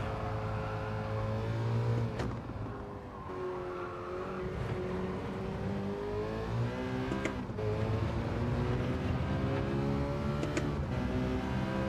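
A car engine revs in repeated rising and falling pulls, loud and close, with a steady mechanical drone between the surges and no speech.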